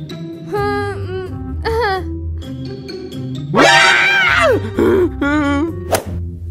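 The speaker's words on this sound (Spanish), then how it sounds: "¿Por qué estás gritando como una niñita?" A girl screams and wails at a camp, loud, close, repeated high-pitched cries, with a brief whack near the end and a voice in between.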